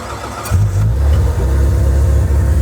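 A right-hand-drive Japanese car converted to left-hand drive, with its battery moved to the trunk, cranks briefly and catches. Its engine then settles into a loud, steady idle close by.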